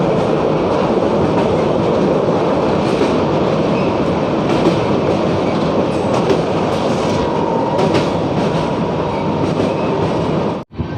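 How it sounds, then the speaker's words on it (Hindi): Gaya Kamakhya Express rolling slowly through Manpur Junction, a loud steady rumble of wheels and carriages with faint clatter throughout, cutting off abruptly near the end. "बाकी अपनी जो ट्रेन है धीरे धीरे क्रॉस कर रही है मानपुर जंक्शन को"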